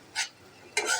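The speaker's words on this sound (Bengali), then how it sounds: "শাকটা একটু নেড়ে দিব।" Hechi greens being stirred in a wok: two short scraping strokes of a spatula, the second longer, each with a soft sizzle, heard close and alone with no talk.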